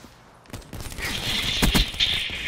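Gunfire in Black Ops 3 as an opponent fires the Drake rifle at point-blank range, a loud cluster of sharp shots building over about a second and a half amid game noise.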